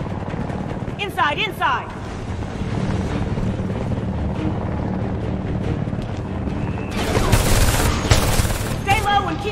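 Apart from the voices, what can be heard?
transport helicopter in video game HomeFront: The Revolution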